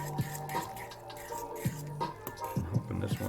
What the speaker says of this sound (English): Time just to stir this up.